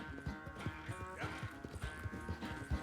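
Horse hooves clip-clop at a steady walking rhythm in Red Dead Redemption 2, close and moderately loud, with faint background ambience and no talk.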